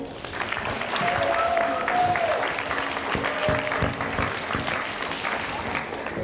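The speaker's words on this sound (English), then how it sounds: "round of applause for Anise." An audience at a university Arab Night cultural event applauds, a dense, moderately loud wash of clapping sustained throughout, with faint voices underneath.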